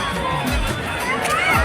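Large crowd gathered at the Nandankanan entrance gate, a loud continuous hubbub of many voices and shouting children, with footsteps and movement close by.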